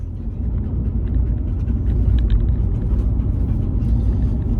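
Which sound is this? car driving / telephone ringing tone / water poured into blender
car driving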